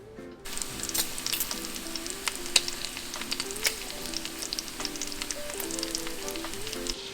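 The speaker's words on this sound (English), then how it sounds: "we're going to start frying up some bacon" Bacon frying in a pan for shrimp and grits, a steady close crackling sizzle with frequent sharp pops and spatters, heard alone without talk.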